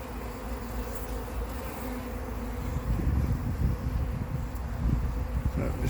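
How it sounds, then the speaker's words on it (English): A calm honeybee colony hums during a hive inspection, a low, continuous buzz that swells slightly in the second half, with no talking. "the bees are actually very calm, which is nice"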